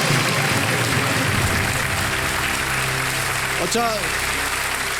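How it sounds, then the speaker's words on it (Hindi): Studio audience applauding on the KBC game show stage, a steady dense clatter of clapping filling the room, with a host speaking over it briefly near the end. "तालियां बज जाएं इनके लिए"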